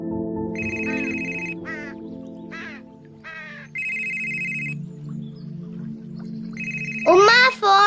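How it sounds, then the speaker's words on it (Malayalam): A mobile phone rings with a repeating electronic ringtone, tone bursts alternating with short chirpy melodic notes, fairly loud indoors, and a voice cuts in at the end. "ഉമ്മ ഫോൺ അടിക്കണേ."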